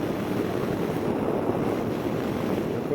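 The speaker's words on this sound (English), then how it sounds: "Feel that wind." Wind rushes past the rider of a Honda Gold Wing Tour DCT motorcycle on the road, a steady, even, broadband roar that continues unbroken with no talking.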